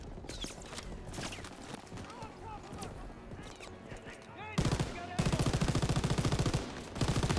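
Gunfire in the World War II shooter Call of Duty WWII: rapid automatic bursts, loud and close, breaking through a busy battle mix with music and shouting voices.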